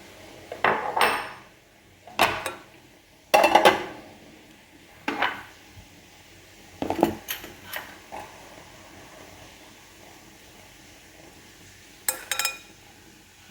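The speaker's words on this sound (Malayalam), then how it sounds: "ഇനി അടുത്ത് നമുക്ക് ബീൻസ് ഇതിലേക്കിടുന്നു" Beans tipped into a metal pan and stirred with a spoon for a Kerala thoran, giving sharp clanks and scraping clatters in irregular bursts separated by quiet pauses.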